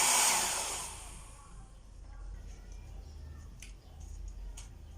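A handheld hair dryer blows hot air with a steady broadband rushing roar, strongest at the start and then settling into a softer continuous hum, with faint clicks near the end.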